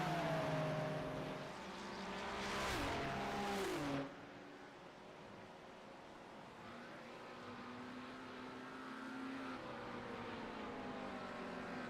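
Race car engines at Watkins Glen, a Jazz Cup Porsche among them, rise and fall in pitch as cars pass, loud at first with a burst of rushing noise, then a softer steady drone from farther off.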